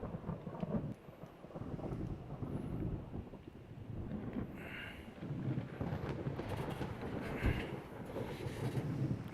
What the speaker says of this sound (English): I really don't want to fight in this storm.